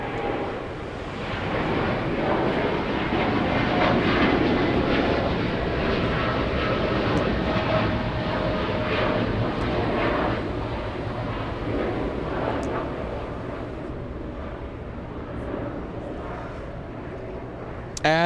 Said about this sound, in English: we have United Airlines 1897. This one flying to Chicago's O'Hare International, the biggest of the Dreamliner